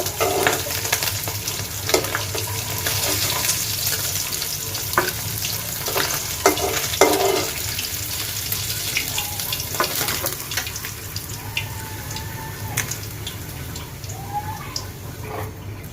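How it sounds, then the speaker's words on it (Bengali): Tangra fish frying in hot oil, giving a steady, dense sizzle and crackle that runs throughout, with occasional scrapes and clinks of a utensil, close and continuous. "মাছ ভাজা হয়ে গেছে"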